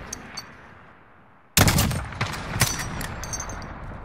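Video game gunfire cuts in abruptly after a quiet stretch: a loud close burst of rapid shots, then scattered sharp reports fading over the next couple of seconds.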